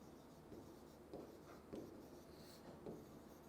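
Handwriting during a chemistry lesson on s-block elements, with soft, faint scratching strokes of pen or marker coming in short bursts, quiet and close, without talk.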